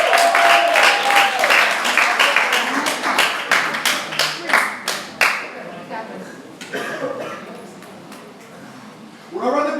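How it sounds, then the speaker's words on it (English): Audience at a poetry slam in Port St. Lucie, Florida bursting into loud, dense clapping that thins into scattered claps and fades, with a cheer or shout near the start and voices rising again at the end. "Everyone give him a round of applause."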